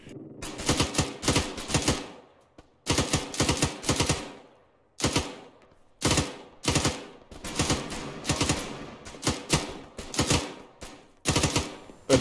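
Bursts of rapid gunfire crackle during a team firefight, clustered volleys separated by brief pauses, sharp and close with no voices between shots.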